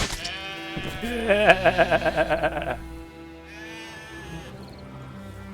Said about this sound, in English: Kill all the peasants' sheep.